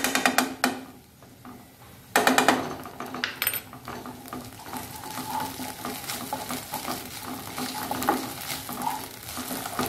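Ginger garlic paste fries in a pan of cooking vegetables while it is stirred. A loud close sizzle comes with repeated spoon scrapes and clinks against the pan, and no one talks.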